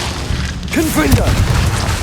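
A Confringo blasting curse in the Hogwarts Legacy video game goes off as a deep, rumbling boom, with a voice shouting over the blast.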